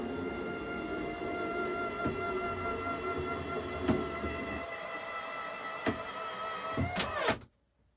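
A motorized custom virtual pinball cabinet hums as its motor steadily shifts it into pinball mode, with a few clicks and clunks along the way and a final mechanical thunk before the motor stops and it falls silent.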